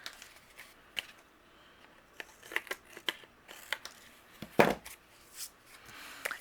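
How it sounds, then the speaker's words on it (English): Long scissors snip paper in separate cuts while trimming a handmade card, with short pauses between them, close and fairly quiet. "using my longer scissors, I'm going to trim away the excess."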